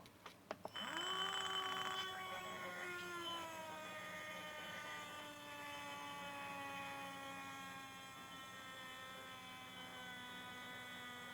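Tamiya Zen Tuned Mini 4WD motor spinning on about 2 volts, a faint, close high-pitched electric whine that starts abruptly after a few clicks and winds up to a steady tone.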